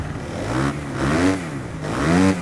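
A 250-class motocross bike engine in the MXGP 3 game revs in three rising and falling surges, buzzy and loud, like an unmuffled dirt bike throttling up repeatedly.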